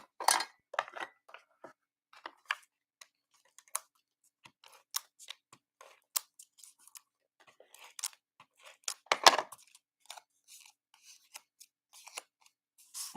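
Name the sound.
tape being pulled and applied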